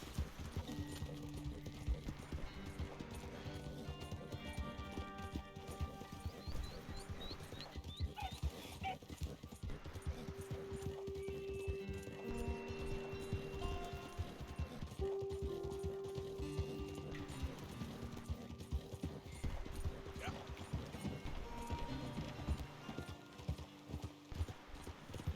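Hooves of a galloping horse in Red Dead Redemption 2 pound in a steady clip-clop rhythm, joined by brief whinnies and game music, while the scene plays on for about twenty-five seconds.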